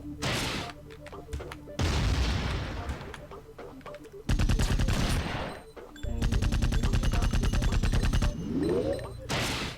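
Loud, dense bursts of rocket and gunfire from enemies in the PC action game Iji, arriving in several heavy clusters of rapid explosive shots separated by brief lulls, with a rising tonal whine near the end.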